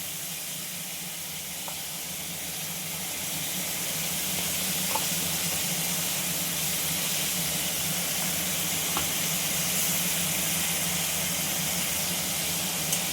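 Onion, green chilli and garlic paste frying in a hot kadai gives a continuous, steady sizzle and hiss that swells slightly after the first few seconds and then stays even, close and alone.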